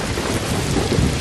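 Heavy rain and a low rolling rumble of thunder form a brief, dense, continuous wash of storm noise, used as a radio drama sound effect.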